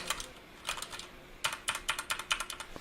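Quiet typing on a white Redragon Kumara keyboard: a few scattered key clicks, then a quicker run of crisp taps, close and alone.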